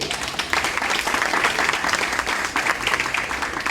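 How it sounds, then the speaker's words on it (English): Audience applause at an award ceremony honoring George Mitchell at a facility, steady dense clapping filling the room throughout, loud and continuous with no pauses. "want to clap? Go ahead."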